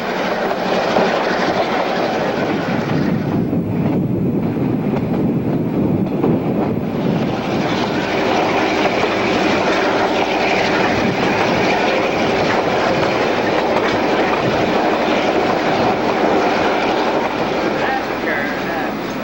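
A Newfoundland Railway mixed train climbing toward Summit, with loud continuous wheel rumble, clickety-clack on the rails and heavy wind buffeting the microphone throughout.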